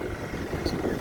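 Strong wind gusting into the microphone on a riverwalk in Valenzuela City, a loud continuous low rumble and buffeting with no voices.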